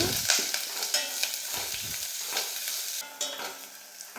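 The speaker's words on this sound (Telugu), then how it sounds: "కట్ చేసి పెట్టుకున్న ఆనియన్ పచ్చిమిరపకాయలు వేసుకొని రెండు నిమిషాలు వేయించుకోవాలి" Chopped onions and green chillies frying in a hot pan, stirred now and then, giving a steady close sizzle with scraping clatters and no voices.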